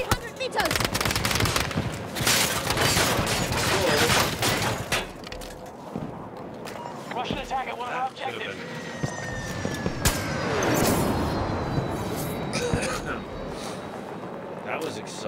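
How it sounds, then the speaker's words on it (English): Battlefield 2042 combat: crackling small arms fire and heavier gun bursts rolling on in layered, sustained volleys, with someone talking over the top and distant booms and whizzing projectiles mixed in. "It seems like small arms fire. Oh, larger arms fire."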